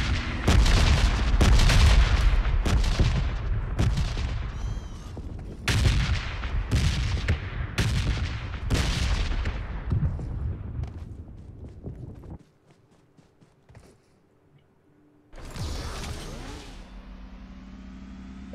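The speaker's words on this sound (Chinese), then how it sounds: "但你们全部人开枪干嘛呢？" Gunfire in the mobile battle-royale game PUBG Mobile: loud, close bursts of repeated shots in quick succession, a brief quiet gap, then another heavy burst near the end.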